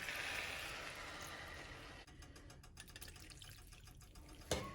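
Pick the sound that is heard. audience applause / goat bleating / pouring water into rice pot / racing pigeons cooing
pouring water into rice pot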